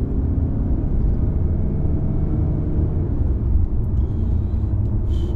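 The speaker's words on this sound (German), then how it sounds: "hier hört ihr das nochmal, das Beschleunigen" Mazda CX-30 Skyactiv-X AWD with a 132 kW engine accelerating, a steady low engine drone and rumble heard from inside the cabin, fairly loud and unbroken, with faint higher whine near the end.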